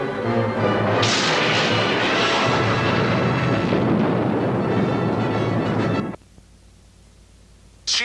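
Phaser fire striking a starship in a Star Trek fan production bursts into a loud, rumbling explosion that roars steadily for about five seconds, then cuts off abruptly into near silence.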